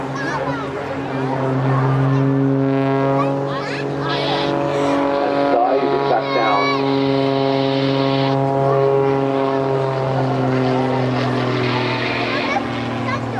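A Muscle Pitts aerobatic biplane rolls through a series of aileron rolls at the Blackpool Airshow, its engine drone steady and loud with shifting pitch, under continuous commentary from a man.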